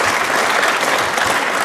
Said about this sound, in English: could you just give us a little round of applause?